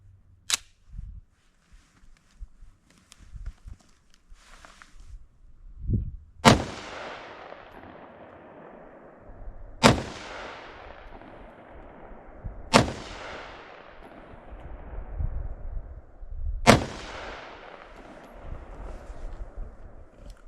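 FK BRNO pistol fired at a target about 7 or 8 yards away, five sharp, loud single shots spaced several seconds apart, each trailing off in a brief echo, with quiet handling noises between them.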